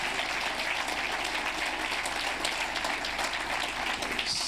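An audience at a talk event breaks into broad, sustained applause, an even wash of many hands clapping heard from within the hall.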